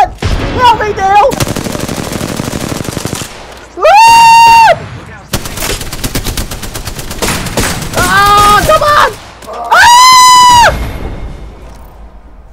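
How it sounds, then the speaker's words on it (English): Loud bursts of rapid gunfire and blasts from grenades launched in a video game, broken by shrill rising screams and whistling tones in a chaotic, overdriven mix. "They literally launched like 30 grenades at me."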